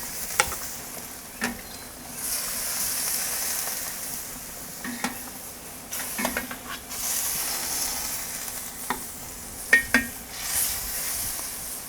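Meat searing on a Kamado Joe grill for street tacos gives a steady, soft sizzle and hiss, broken by scattered crackles, pops and a few sharp utensil clinks.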